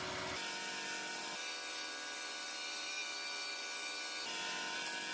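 Wax is buffed off a spinning pen blank on a lathe running near 2,000 RPM, giving a steady, close rubbing hiss that shifts in tone as pressure changes, with no voices.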